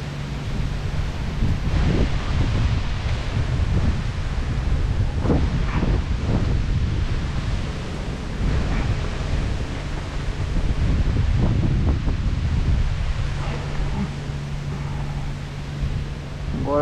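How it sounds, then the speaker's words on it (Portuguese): Strong gusty wind blowing on a riverbank during a bamboo-rod matrinxã fishing trip, a constant loud roar with rustling leaves and microphone buffeting throughout, no speech. "Agora só quando eu parar essa ventania."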